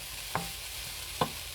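Bok choy is stir-fried in a pan for chow mein, with a low sizzle underneath and two short scraping knocks of the utensil moving the greens around.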